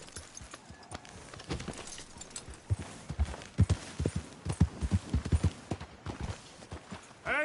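Horse hooves clip-clopping in the video game Red Dead Redemption 2, a faint, steady rhythmic patter of hoofbeats on the ground with a short snort or huff at the end.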